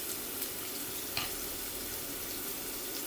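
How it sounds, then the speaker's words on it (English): Beef koftas sizzling in a frying pan, a constant crackling hiss with a couple of brief louder pops, no talking. "so if you can hear that sizzling sound"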